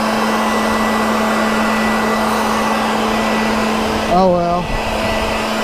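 Steady, loud whooshing roar of a leaf blower pushing leaves, running continuously throughout with a brief spoken remark near the end.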